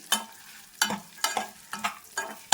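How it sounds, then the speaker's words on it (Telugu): Pumpkin seeds, almonds and cashews roast in a pan over low to medium flame, with five or six sharp, rhythmic rattling stirs and scrapes close by, each followed by a brief sizzle. "ఇవి కొద్దిగా మనకి దోరగా వేగనిద్దామండి. లో టు మీడియం ఫ్లేమ్ వాళ్ళలో మాత్రమే మీరు వేయించుకోండి"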